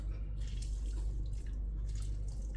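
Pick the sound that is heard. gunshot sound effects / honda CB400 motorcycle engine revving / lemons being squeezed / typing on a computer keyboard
lemons being squeezed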